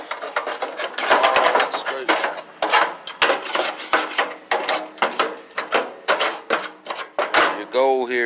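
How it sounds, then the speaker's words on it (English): Caked grease grime being scraped off an old grill, a loud, close, rhythmic rasping of strokes back and forth, about a dozen in a row, with a brief voice at the very end. "Alright, and then just keep scraping."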